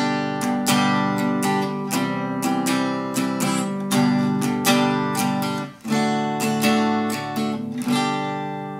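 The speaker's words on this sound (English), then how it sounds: "So today we're going to look at one of our most popular strumming patterns," Acoustic guitar strumming a chord pattern, a steady, repeating rhythm of down and up strokes, bright and close, played alone without voice.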